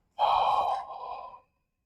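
One long, deep exhale during a yoga breathing exercise, close and breathy, fading over about a second before silence.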